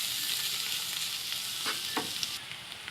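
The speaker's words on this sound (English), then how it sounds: "we can add the ginger garlic paste and fry it for few minutes." Onions and ginger garlic paste frying in a pan for an aloo matar potato and pea curry, a steady close sizzle with a few stirring scrapes, no talking.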